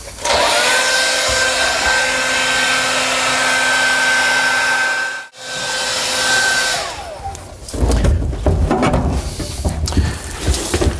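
A heat gun warming sheet metal before R-Blox installation blows with a loud, steady whirring hiss. It dips out briefly, then resumes, and handling and scraping noises follow near the end.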